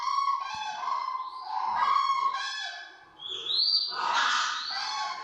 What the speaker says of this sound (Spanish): Mis queridas grullas grullen, gruir de grullas.